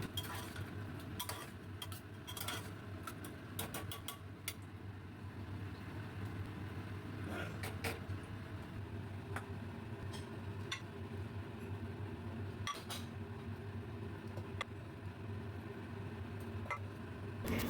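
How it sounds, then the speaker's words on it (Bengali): A spoon stirring white potato curry with chopped coriander in a pan, giving irregular metallic scrapes and clinks, busier at first and then sparser over a steady low background hum. "নেড়েচেড়ে নামিয়ে নেব।"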